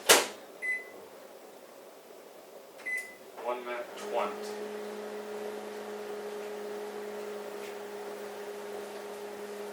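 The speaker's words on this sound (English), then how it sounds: "Put the eggs in the microwave." A microwave oven cooking eggs for an egg muffin runs with a steady low hum after a few beeps and door clatter, close by, with a short spoken remark near the start.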